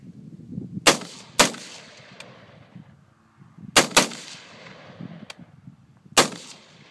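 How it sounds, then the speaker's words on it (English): Rimfire rifle fired at a small steel target, with five or six sharp cracks spaced unevenly, each closely followed by a faint metallic ring from the steel, all heard close with no talking. "Hit one, Clint. It's a 10 MOA target."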